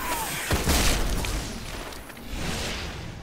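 A sharp sniper rifle report in a Destiny multiplayer match, one crack early on followed by booming echoes and scattered distant fire that fades into a rumble.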